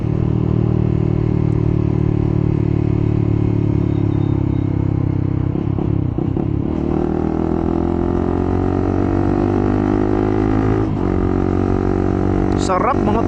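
A Honda CBR150R motorcycle engine runs loud and close, its drone rising and dropping as it revs and shifts through the gears, with a rider talking over the engine.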